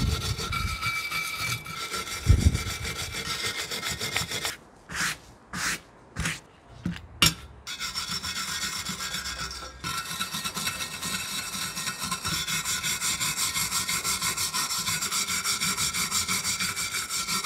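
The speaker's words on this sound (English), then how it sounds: "it's time to use a wire brush to clean around where the bolts mount and the center bolt as well." A wire brush scrubs hard and close around the blade mount and center bolt of a Honda lawnmower deck, in long continuous rasping passes broken midway by a few short separate strokes.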